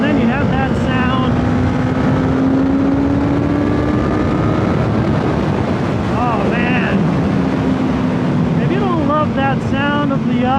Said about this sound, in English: That sound of the inline 4